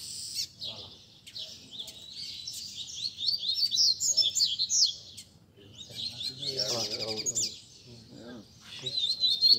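Several double-collared seedeaters (coleiros) sing in a lively, overlapping chorus of rapid chirps and trills, fairly close, with faint voices murmuring underneath.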